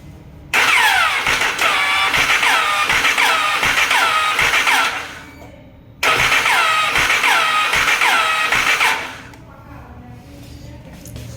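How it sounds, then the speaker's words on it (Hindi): A Jawa Yezdi motorcycle's faulty self-starter cranks twice, each burst a loud, harsh whirring grind with a rattling beat, about four and three seconds long, separated by a short pause. "तो चलिए इसको सेल्फ मार के देखते हैं किस तरह का नॉइज़ आ रहा है"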